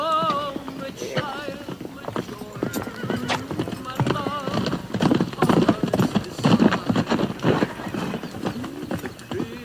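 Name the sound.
horse hooves clip-clopping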